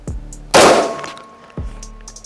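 Remington V3 TAC 13 shotgun firing Federal number 8 birdshot: two sharp, loud blasts about a second apart, each with a short ringing decay, standing alone without talk.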